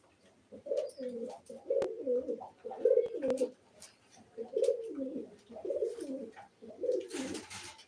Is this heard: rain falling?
no